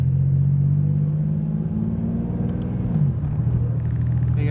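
Turbocharged 3.7-litre V6 Ford Mustang engine while driving, a steady loud low rumble heard from inside the car, with a slight rise and dip in pitch partway through and no talking.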